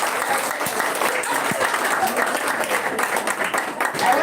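An audience at a livestreamed business event in Vihiga claps in a dense, steady patter, fairly close and loud throughout, with voices mixed in under the applause.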